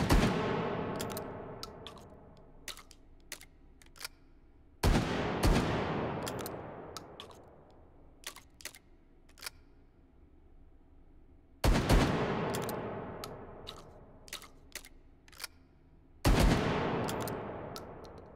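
Shotgun fired in the VR game Hot Dogs, Horseshoes & Hand Grenades, four loud blasts with long ringing tails spaced several seconds apart, and sharp mechanical clicks and rattles of handling between shots.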